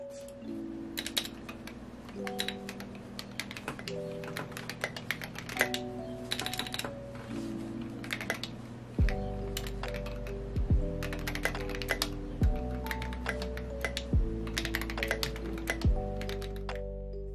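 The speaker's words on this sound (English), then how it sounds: "I'm a bit curious as to how fast I can type with a regular keyboard" Rapid typing on a regular computer keyboard, steady clicking keystrokes up close, with a tonal musical backdrop running underneath throughout.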